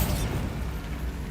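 A Bombarda blasting spell goes off in Hogwarts Legacy, a dense, loud, low booming burst that fills the short moment and cuts off abruptly.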